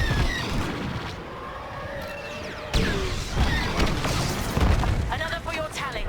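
A starfighter takes fire in the video game Star Wars Squadrons: heavy booms and crashing impacts hit in bursts, with a sudden loud blast midway, mixed with radio voices and engine rumble.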